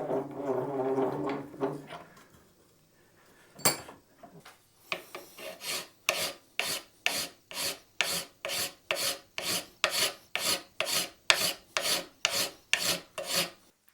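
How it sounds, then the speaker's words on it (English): A hand file rasps at a guitar nut clamped in a vise, with about a dozen and a half steady, evenly spaced strokes close by, after some quieter rubbing and handling at the start. "just go at it with a file or something just to kind of take the rest of that material off"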